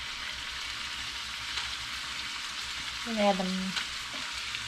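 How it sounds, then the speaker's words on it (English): Food sizzles steadily in a frying pan, a constant hiss, while a voice briefly speaks over it near the end. "That sizzle looks good."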